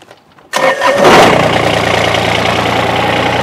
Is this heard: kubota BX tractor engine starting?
yes